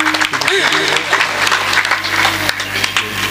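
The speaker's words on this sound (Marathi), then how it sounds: "टाळ्या." An audience claps at a devotional kirtan, the applause a broad rustling wash mixed with voices and a sustained tonal sound throughout.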